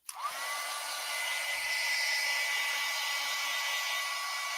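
A hair dryer spins up and then holds a steady, loud whir with a faint high whine, drying wet acrylic paint on a cloud painting, running continuously with no talking.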